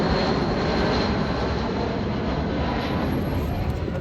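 A JetBlue jet airliner passes overhead as a steady, broad roar of engine noise that holds at an even, moderate level from start to finish, with no voices over it.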